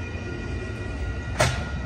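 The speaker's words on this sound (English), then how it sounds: "this is train 11 on its way to Los Angeles" Amtrak Coast Starlight train 11, heard from inside the lounge car, rolls with a low, steady rumble broken by one brief sharp click.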